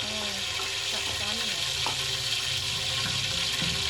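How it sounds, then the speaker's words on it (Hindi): Water sizzling and spitting in hot ghee as spiced food fries, a steady dense crackle with bubbling, close and continuous throughout without talk. "ये पानी है जिसके अंदर, ये पानी शोर कर रहा है सारा।"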